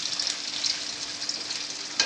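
Tomato paste and onion sizzle steadily in a wok, a continuous bright crackling hiss with occasional sharper pops, close up and with no talking.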